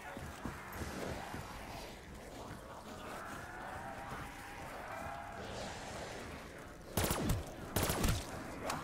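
A short burst of gunfire in a zombie-style video game, a pair of sharp loud broadband shots near the end following a stretch of background game sounds and music.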